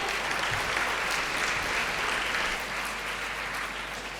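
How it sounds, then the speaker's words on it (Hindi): Steady applause from an audience welcoming a speaker at a public event, loud and continuous throughout without letting up. "जोरदार तालियों से स्वागत।"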